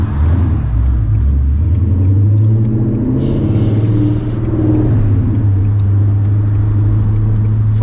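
A 2021 Ford Mustang GT fitted with stainless power headers rumbles loudly from inside the cabin, a deep steady exhaust drone that rises and settles as the engine revs while driving.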